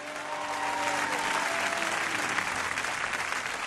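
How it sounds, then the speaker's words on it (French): Church congregation applauding to acclaim the Lord: dense, sustained clapping from a large crowd that swells quickly and holds steady, with a faint voice underneath at the start. "Est-ce qu'on peut acclamer le Seigneur?"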